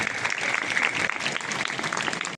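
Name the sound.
audience applause welcoming the guest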